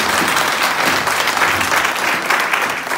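A congregation at a church mission service gives a loud, continuous round of applause, many hands clapping in a dense, even roar that stays strong throughout.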